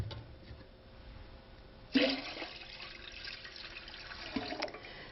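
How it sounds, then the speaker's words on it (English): Water rushes and splashes steadily into a metal canner on the heat source, with a louder surge partway through and a brief clatter near the end. "add 2 to 3 inches of water"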